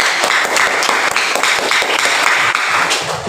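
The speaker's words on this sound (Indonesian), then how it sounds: "tepuk tangan dulu untuk temannya" Classroom applause for a student, with a burst of brisk, dense clapping from many hands, loud and close, filling the whole short stretch.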